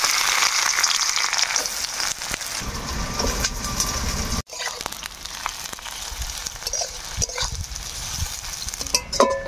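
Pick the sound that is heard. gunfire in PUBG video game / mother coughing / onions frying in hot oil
onions frying in hot oil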